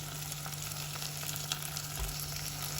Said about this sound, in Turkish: Tereyağımız elinde güzelce kavuralım çevire çevire